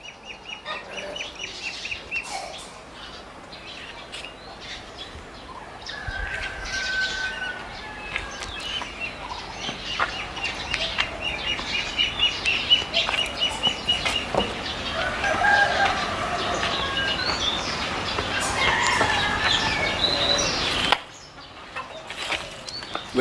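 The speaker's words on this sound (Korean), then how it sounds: "우리가 지어놓은 그 닭장하고 오리장 그 영상을 한번 보시겠습니다." Chickens and ducks in a newly built coop beside a pond call together in a continuous farmyard chorus of clucks, honks and occasional crowing, fairly loud throughout with no talk, fading sharply near the end.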